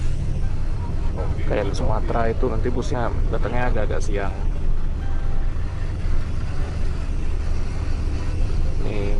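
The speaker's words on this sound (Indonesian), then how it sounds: "Nah, ini suasana terminal pada pagi ini." Morning ambience at Bekasi bus terminal, with a steady low rumble of idling buses and traffic filling the whole stretch while a person talks close by for the first few seconds.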